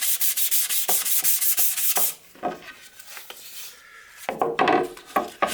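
Sandpaper rubs along the grain of a wooden writing slope in quick, regular back-and-forth strokes, close and crisp, then slower, softer passes with scattered scratchy bursts.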